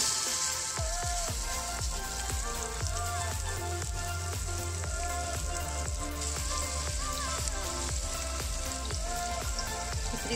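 Chicken tikka frying in a little oil in a pan over low heat, a constant crackling sizzle with frequent small pops and spits, close and evenly loud throughout.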